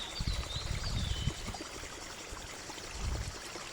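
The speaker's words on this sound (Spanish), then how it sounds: "con este sonido del agua" Water stream flowing beside an adapted mountain nature trail about three kilometres long, a steady broadband rush with slight surges, moderately close and continuous, with faint high bird chirps above it.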